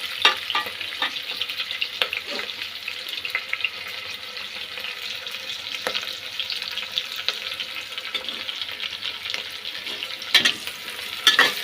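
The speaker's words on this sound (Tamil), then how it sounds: "நல்லா ஃப்ரை ஆகுது பாருங்க" Chicken biryani ingredients frying in a pan, a sustained crackling sizzle with intermittent stirring scrapes and clinks throughout, close and continuous without speech.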